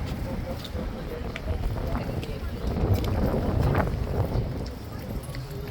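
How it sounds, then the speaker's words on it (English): Wind gusting outdoors near the King's Guard in London, a steady broadband rush that swells in the middle and stays loud throughout, with no clear speech over it. "And the wind."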